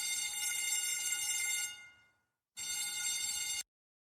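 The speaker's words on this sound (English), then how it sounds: "It must be the fire alarm, Anthony." A school fire alarm during a fire drill rings with a bright, continuous electronic tone that cuts out and then returns for about a second.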